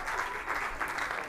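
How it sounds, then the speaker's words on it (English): An audience gives a choir a round of applause at a state choir awards grand finale, even, continuous clapping heard briefly and at moderate volume. "Please, another round of applause for them."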